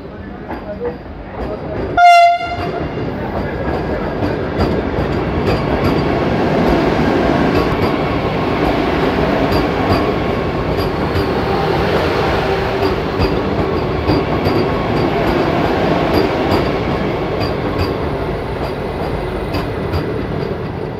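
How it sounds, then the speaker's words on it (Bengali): The Puri–Rourkela Vande Bharat Express rolls into platform 1 at Cuttack station. A brief, loud horn blast sounds early, then a steady, close rumble and clatter of the moving train fills the rest. "পুরী রাউরকেল্লা বন্দে ভারত এক্সপ্রেস কটক স্টেশনের 1 নম্বর প্ল্যাটফর্মে এন্টার করছে।"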